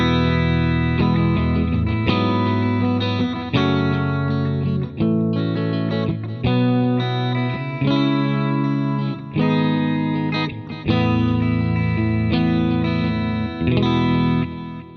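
An electric guitar plays through a Positive Grid Spark 40 smart amp on its default tone, with distortion, a touch of delay and reverb, in loud, sustained strummed chords that change every second or so, alone without voices.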